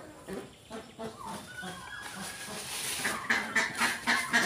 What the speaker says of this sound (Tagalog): Yan po yung mga pabo natin